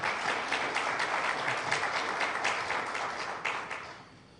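Audience applause at a Philippines–Canada defense pact press conference, a steady wash of many hands clapping for about four seconds before tapering off near the end.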